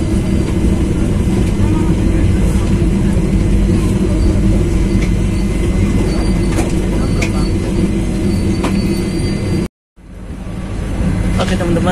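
Inside the KA Dharmawangsa passenger train (KA131, Surabaya Pasar Turi to Pasar Senen), a loud, steady rumble of wheels and carriage with rattling and clacks, broken by one short dropout near the end.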